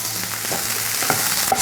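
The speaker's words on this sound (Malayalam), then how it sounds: "ഇതിലോട്ട് ഒരു സ്പൂൺ ജിഞ്ചർ ഗാർലിക് പേസ്റ്റ് ഇട്ട് കൊടുക്കുക" Onions fry in a pan with a spoonful of ginger garlic paste, giving a steady close sizzle with a few brief sharper pops and stirring touches, and no talking.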